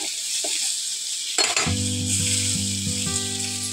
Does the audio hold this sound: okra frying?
yes